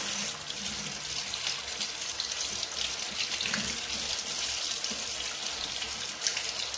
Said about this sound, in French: Je commence à rincer les pinceaux